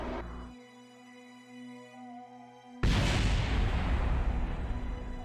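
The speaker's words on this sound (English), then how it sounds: "I heard an explosion." Explosion in the Kerbal Space Program video game: after quiet tonal game music, a sudden loud boom bursts in and settles into a sustained roaring rumble.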